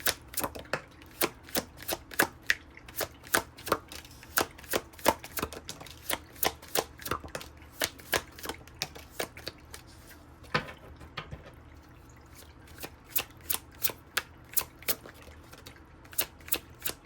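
Tarot cards are shuffled and snapped down in a long run of sharp, crisp taps, spaced fairly regularly with one brief pause. The sound is close and moderately quiet, with no voices.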